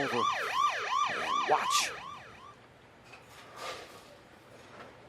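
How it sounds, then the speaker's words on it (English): A wailing emergency siren sound effect sweeps up and down rapidly for a couple of seconds during a bowling broadcast, then cuts off, leaving faint background noise and a brief word. "You hear the sirens."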